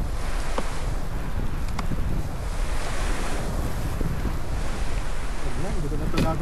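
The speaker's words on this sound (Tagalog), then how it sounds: "Lakas ng alon." Rough sea waves churn and crash continuously around a fishing kayak, mixed with wind rumbling across the microphone, a dense loud wash with occasional sharper splashes.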